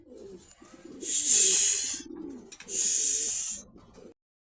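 Danish pigeons on a farm coo in two loud, close bursts with a faint low murmur between them, and no talking is heard.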